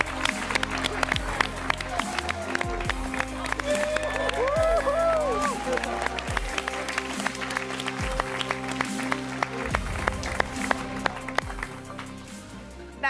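A crowd at an esports final cheers and applauds loudly and steadily, with scattered claps and whoops. Bursts of amplified music or stage effects are heard underneath the ongoing cheer.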